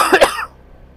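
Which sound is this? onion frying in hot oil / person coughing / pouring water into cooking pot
person coughing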